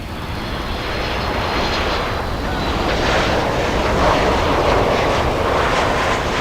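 A jet airliner roars at Miami International Airport during a stormy day, a loud, sustained broadband engine rush that swells gradually, heard from a distance with wind buffeting the microphone.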